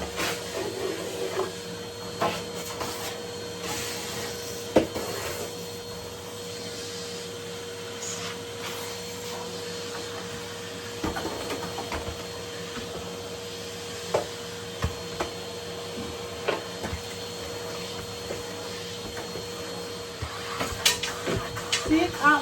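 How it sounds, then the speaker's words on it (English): A vacuum cleaner runs steadily on a floor covered with protective plastic, a constant drone with scattered knocks and bumps as it works into the corners, while a person talks over it. "See, I'm on the floor making sure I get every little fridge out corner. Vacuum."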